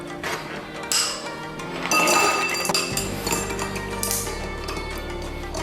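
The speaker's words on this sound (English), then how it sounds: "Let's add some ice, give it a stir." Ice clinking against a cocktail glass while a Japanese martini of yuzu gin and sake vermouth is stirred, bright tinkling clinks and rattles running steadily through the whole clip with no talk.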